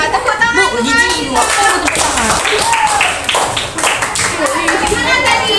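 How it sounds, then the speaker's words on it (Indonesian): Children in a classroom clap their hands together in a burst of quick, overlapping claps, with kids' voices chattering and calling out throughout. "Tepuk tangan."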